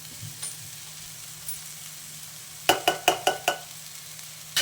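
Bitter gourd fries in a pan as chilli powder and sambar powder go in, a faint steady sizzle broken by a quick burst of five sharp utensil taps against the pan.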